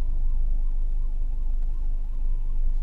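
Police car siren wailing in a repeating rising-and-falling tone on a city street, moderately distant and steady over constant traffic rumble, with no talk.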